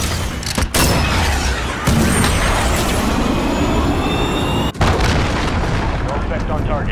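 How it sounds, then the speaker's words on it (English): A cruise missile launch in the video game Call of Duty: Modern Warfare, a loud sustained roaring rush with booming bursts, continuous and dense throughout. "Cruise missile, go for launch."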